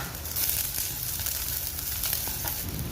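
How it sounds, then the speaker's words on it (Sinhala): Whole spices, cardamom among them, sizzle and crackle in hot oil while being tempered for a Sri Lankan fish curry, a close, continuous frying hiss with small pops. "මේ ටිකත් ඔක්කොම හොඳට දාගෙන මම තෙලේ පොඩ්ඩක් මේක ටෙම්පරාදු වෙන්න දෙනවා."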